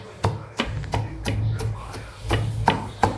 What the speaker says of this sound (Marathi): त्यासाठी लसूण, कोथिंबीर, जिरं हे कुटत आहे.